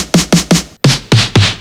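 Original snare drum sample on a Korg Electribe 2 sounding six bright, noisy hits in a steady pattern with a brief gap midway, each with a sharp attack and short decaying tail, loud and alone.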